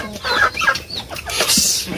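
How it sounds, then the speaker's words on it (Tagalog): Chickens cluck in short, busy bursts close by at feeding time, with a few overlapping calls and no talking. "Papakain na po tayo ng mga manok natin."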